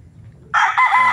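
A red rooster lets out a single loud, close crow that bursts in abruptly after a quiet moment.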